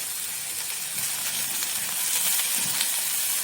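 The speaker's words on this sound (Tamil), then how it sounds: "இது ஒரு 2 நிமிஷம் வதங்கட்டும்." Ginger and garlic sauté in a pan for channa masala, giving off a steady, fairly loud hissing sizzle with faint crackles throughout and no talking.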